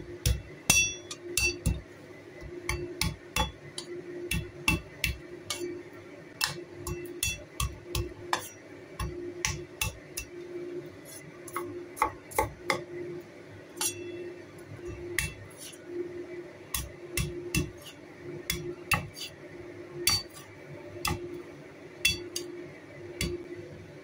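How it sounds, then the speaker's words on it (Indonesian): Garlic cloves are smashed and then chopped on a board, giving a long series of sharp, close knocks that come in quick irregular bursts with short pauses, in a home kitchen in Hong Kong. "ini bawang putihnya kita geprek, kemudian kita cincang ya teman-teman ya"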